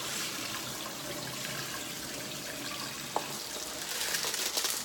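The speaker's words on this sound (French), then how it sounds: "On rince de nouveau." Sprouting seeds being rinsed with water in a bowl, a steady running flow like a tap, with a brief clink midway and livelier splashing toward the end.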